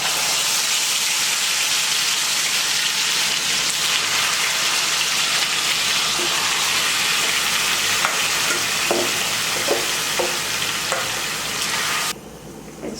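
Marinated chicken dropped into hot oil over fried whole spices for chicken kosha, giving a loud, steady, dense sizzle with a few stirring knocks near the end before the sizzle drops away.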